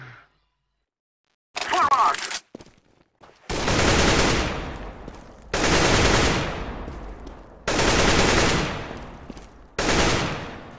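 Counter-Strike gunfire on an aim map: four loud, separated bursts of rapid automatic shots, each a sharp crack trailing off, after a brief short sound and near-silence at the start.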